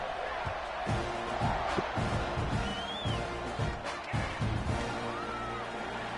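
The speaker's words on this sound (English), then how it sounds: "this crowd is buzzing after that last score." Stadium crowd buzzing at an American football game after a score, a dense distant roar under commentary and band music, with occasional thuds.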